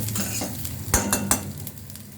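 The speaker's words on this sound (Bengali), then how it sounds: "এইভাবে একটু মুসুর ডালটাকে ভেজে নিতে হবে" Red lentils (masoor dal) fry over a low flame in a pan with chopped onion, garlic and ginger, giving a steady close sizzle broken by a few sharp scrapes and clinks of a stirring spoon.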